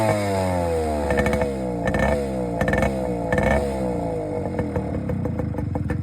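Motorcycle engine fitted with a modified silencer, idling up close with a throbbing exhaust and several sharp blips of revving, loud and alone.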